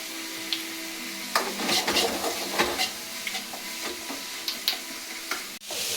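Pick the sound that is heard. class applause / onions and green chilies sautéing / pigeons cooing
onions and green chilies sautéing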